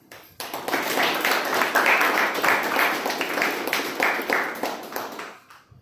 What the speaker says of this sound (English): I would like to hear a round of applause.